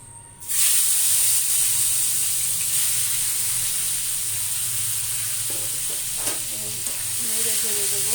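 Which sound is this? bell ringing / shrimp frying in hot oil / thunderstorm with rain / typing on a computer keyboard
shrimp frying in hot oil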